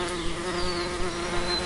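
Honey bees buzz at an opened, tidy hive, a steady close drone of many wings holding an even pitch without pause.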